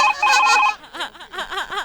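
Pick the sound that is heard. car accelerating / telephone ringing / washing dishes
telephone ringing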